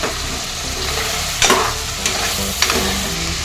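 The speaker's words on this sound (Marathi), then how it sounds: "हे मटण चांगलं तुपात परतून घ्यायचं आहे" Mutton sizzles in ghee in a pan for a Sindhi teevan-style curry, a steady loud fry broken by three scraping stirs at even intervals.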